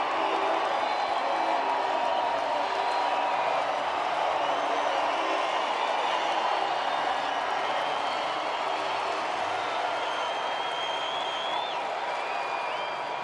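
White Sox fans at a Tigers–White Sox baseball game in Chicago fill the ballpark with a steady, distant crowd murmur, scattered clapping and an occasional whoop, holding at an even level throughout.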